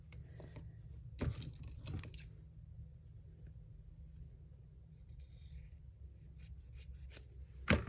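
Scissors snipping thread on an embroidered Santa hat, a few quiet crisp cuts and light scrapes, close up and faint over a low steady hum.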